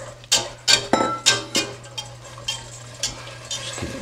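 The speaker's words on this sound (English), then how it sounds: "Just get it nice and stirred around so it's kind of good and even" Rice, spices and vegetables stirred in a hot pan over high heat: a series of metallic scrapes and clinks of a spoon against the pan, sharp and close at first, then softer, over a faint steady hum.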